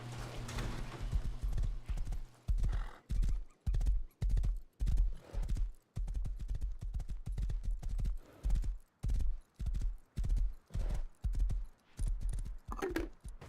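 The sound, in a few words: horse hooves clip-clopping in the video game Rust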